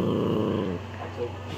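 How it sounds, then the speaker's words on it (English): A puppy growls low and steady over a stolen bone, a continuous rumble close by that eases partway through, with a person talking over it. "Misa stole Ella's bone and she's growling."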